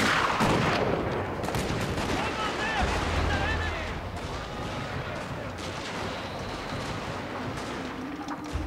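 Battlefield gunfire and artillery in Shogun 2 Fall of the Samurai, a dense continuous rattle of musket volleys and booming cannon, loud at first and then slightly lower, with a voice talking over it.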